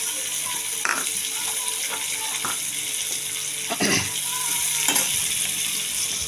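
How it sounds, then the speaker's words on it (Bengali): Onions sizzling in hot oil with cumin seeds, a steady bright frying hiss with repeated stirring scrapes and clinks from a spatula in the pan, close and fairly loud, no talking. "এবার তেলে দিয়ে দেব পেঁয়াজ, জিরা ফোড়ন দিয়েছি"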